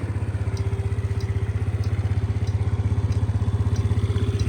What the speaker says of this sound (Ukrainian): Заводиться, дивіться, чудово, прекрасно, чистенько працює.